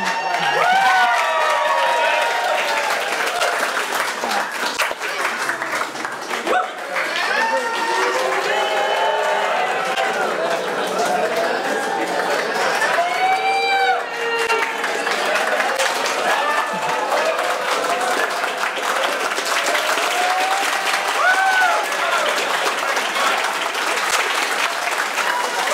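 Loud, sustained applause and cheering from a live theatre audience driving a laser-projected Flappy Bird game, the clapping swelling and dipping over a long stretch with whoops and shouts rising through it.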